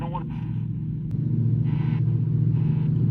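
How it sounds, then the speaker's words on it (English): A lawnmower engine drones steadily nearby, its low hum rising slightly and persisting throughout while people talk over it. "I'm so sorry about the lawnmower guy."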